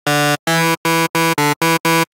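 FM riddim bass synth patch built in Serum, heard as seven short, loud, gritty buzzing notes in a choppy rhythm with brief silent gaps between them.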